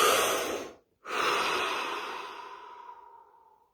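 A deep, slow breath: a long airy inhale, a brief pause, then an extended exhale that gradually fades, close to the microphone with no talking.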